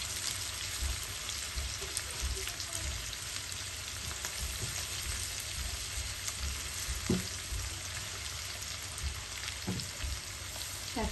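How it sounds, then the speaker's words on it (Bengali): Sliced bitter gourd fries in a pan, a steady close sizzle running throughout with occasional scraping stirs and spatula knocks. "নাড়াচাড়া করে দিচ্ছি"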